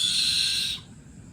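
A pet owl gives a loud, hissing screech call that holds steady and then cuts off abruptly partway through, leaving quiet room tone.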